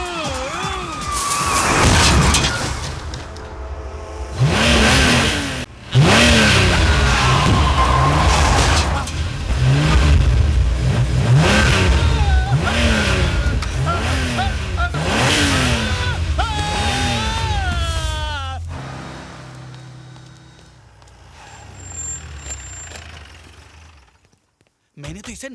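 A driverless car's engine revs hard and the car drives on, loud and close, with repeated rising and falling surges, a siren-like wail and crash-like bangs, before fading toward near silence.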